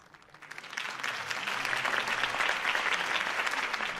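Crowd applause after a campaign speech in Batman: The Telltale Series, swelling up from quiet over the first second into steady, full clapping that holds to the end.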